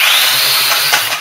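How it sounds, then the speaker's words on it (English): A toy quadcopter's motor whines and buzzes loudly and close up as a hand blocks its spinning rotor. The strained whir lasts about a second with slight stuttering. "So if I'm using my hand here to block the rotor"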